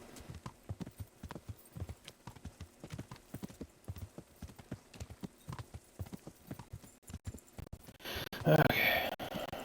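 Video game sound of a horse's hooves trotting in a rhythmic clip-clop, with the horse whinnying briefly near the end.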